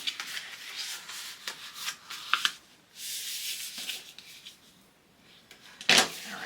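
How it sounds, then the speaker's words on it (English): Cardstock being burnished along a folded score line for a simple folio, heard as close, soft rubbing strokes in uneven bursts with quieter pauses between. "we can go ahead and fold over our other score line and burnish"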